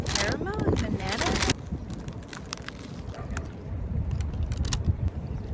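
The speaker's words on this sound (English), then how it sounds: "once again astounded by how windy it is by the sea. Very, very windy." Strong seaside wind buffets the microphone in Copenhagen with loud, gusting rumble and flutter, easing then swelling again, while a person talks over it.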